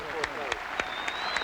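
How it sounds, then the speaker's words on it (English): A tennis exhibition crowd gives steady applause after the match, a dense wash of clapping with a few sharper claps standing out. "Let's have a great round of applause."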